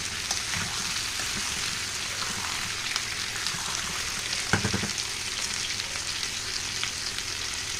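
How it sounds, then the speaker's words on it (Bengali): Potatoes and onions with a little salt fry in a pan, a steady close sizzle with a brief louder crackle midway and no talking. "একটু ভেজে নেবো"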